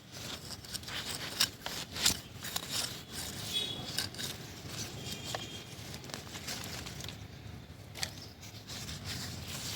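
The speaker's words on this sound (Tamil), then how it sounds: "நல்லா மண்ணை கொஞ்சம் இந்த மாதிரி லூஸ் பண்ணி விட்டுருவோம்" Bare hands loosening soil around leafy greens in a terrace garden pot, giving soft scraping, rubbing and crumbly crackling with scattered small ticks, steady and close throughout.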